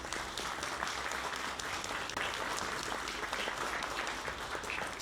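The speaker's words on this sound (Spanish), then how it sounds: "les pido un fuerte aplauso para los panelistas que nos van a acompañar" An audience at a panel event on tortilla and maize prices claps steadily for the panelists, a dense, continuous wash of applause with no break for about five seconds.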